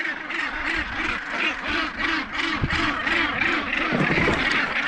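A large seabird colony on Bonaventure Island calls nonstop, a dense, loud chorus of harsh, rhythmic croaking voices layered near and far with no break.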